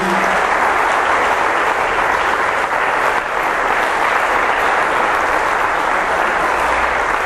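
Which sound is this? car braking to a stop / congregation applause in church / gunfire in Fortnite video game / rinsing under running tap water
congregation applause in church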